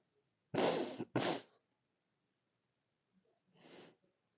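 Two quick, forceful nose blows close by, followed after a pause by a softer third blow; no talking.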